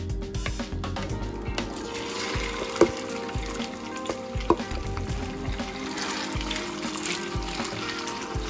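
Marinated chicken dropped into an oiled pan on the stove, a soft, steady frying hiss with a couple of sharp clinks of a utensil against the pan, quiet and close.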